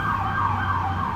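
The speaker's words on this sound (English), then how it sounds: "Isn't it crazy how the ambulance shows up while I'm recording this video?" An ambulance siren passing by outdoors, a loud continuous wailing tone that sweeps up and down steadily over low road rumble, with no voices.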